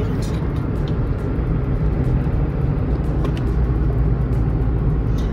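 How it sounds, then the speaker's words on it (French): Steady low engine rumble and road noise of a moving car, heard from inside the cabin, continuous and fairly loud with faint higher hiss. "on est en voiture là"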